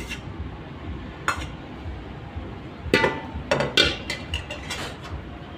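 Diced bell pepper and onion are tipped into a bowl of corn salad, giving a few scattered clinks and soft knocks against the bowl, with a cluster of taps in the middle, all fairly quiet.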